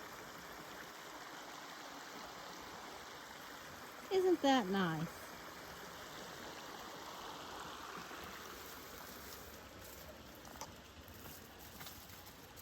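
Steady broadband rush of a shallow river flowing around a lunch spot in the middle of the riverbed at DeSoto State Park, Alabama, during low water after little rain; a constant close wash with a brief voice speaking near the middle.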